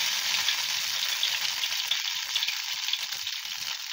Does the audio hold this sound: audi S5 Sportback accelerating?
no